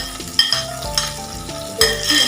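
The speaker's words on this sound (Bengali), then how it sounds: "এবার লঙ্কা কুচনোটা দেবো," Chopped green chilli dropped into onions frying in a pan, with a steady sizzle under repeated scraping strokes of a spatula against the metal, several sharp stirring knocks standing out close by.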